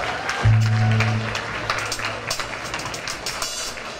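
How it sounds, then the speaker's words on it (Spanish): Applause at a quinceañera celebration, a steady, moderately loud patter of many hands clapping that spreads through the room and slowly thins out over a few seconds. "Fuerte el aplauso"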